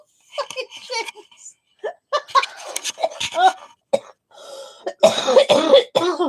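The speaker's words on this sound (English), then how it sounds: "Oh, this cough." A few short, harsh coughs break up between bursts of speech and light laughter, close and fairly loud.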